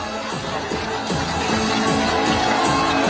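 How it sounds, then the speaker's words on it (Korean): Crowd at a political rally for presidential candidate Kim Moon-soo cheering and clapping, a dense, steady roar of many voices with applause throughout. "여러분, 큰 함성과 박수 보내주시기 바랍니다"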